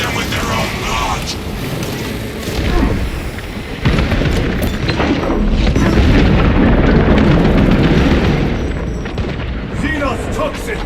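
A frag grenade explodes in the Warhammer 40,000: Space Marine 2 video game, its loud heavy booms rolling into sustained battle noise with distant voices in the mix.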